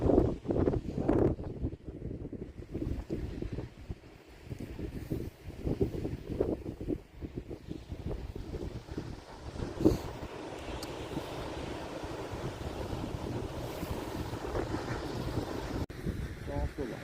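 Cold wind blows outdoors, buffeting the microphone in gusty low rumbles while people talk over it.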